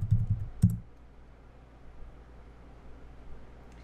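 A short burst of computer keyboard typing, a few quick close clicks at the start, then near silence with faint background hiss.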